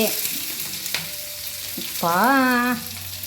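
Green chilies, curry leaves and onion fry in hot oil with a soft, continuous sizzle and a few stirring clicks, interrupted midway by a short rising tonal whine for under a second.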